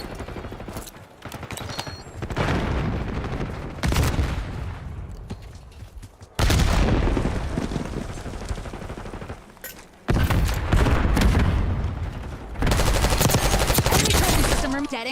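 Rapid bursts of automatic gunfire and explosions from the video game Black Ops 6, loud and dense, with several sustained volleys separated by brief lulls.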